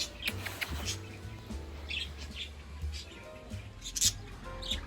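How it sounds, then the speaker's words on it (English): A budgerigar in an outdoor enclosure with doves, chickens and rabbits chirps and warbles in short bursts over low background rumble, moderately near but not loud. "The budgie giving it his all."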